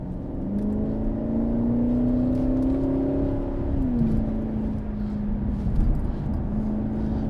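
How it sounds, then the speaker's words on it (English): A Holden VXR8's Chevy V8 engine drones steadily while driving, a deep, moderately loud rumble whose pitch climbs then drops as the revs change and then settles into an even cruise, with no voices. "it does sound unmistakably like a Chevy V8"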